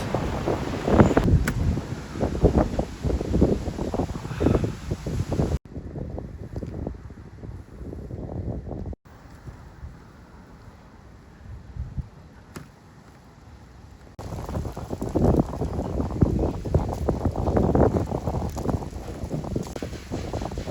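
Strong storm wind gusts hard around a wholesale market street at 2 a.m. on the way down Wudang Mountain. Loud, roaring buffeting hits the microphone, with a calmer stretch in the middle before the gusts return at full force.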